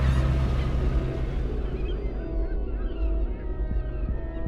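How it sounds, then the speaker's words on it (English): Loud honking seabird calls fill the air over a rough, continuous wash of waves hitting huge steep cliffs on Foula, Shetland, fading slightly toward the end. "the sounds of vivid bird life, and washing waters hitting the huge steep cliffs"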